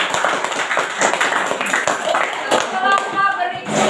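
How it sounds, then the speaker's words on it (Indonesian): Audience applause following a group's class presentation, steady dense clapping from a room full of people for about four seconds, with some faint talk mixed in. "Oke, beri aplaus."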